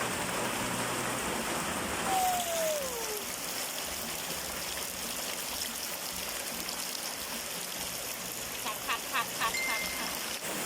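Steady rain falls outside a rural home, a dense, even hiss throughout with a few brief tones and clicks near the end, heard alone.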